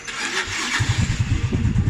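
Yamaha Mio Sporty 115cc motorcycle engine fired up by a remote alarm starter, catching after a brief crank and settling into a steady, close putter alone.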